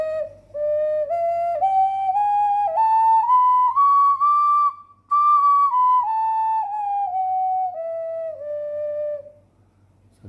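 An ocarina blown in a clear, pure, whistle-like tone, a slow melody gliding upward then back down, loud and close with a brief pause midway.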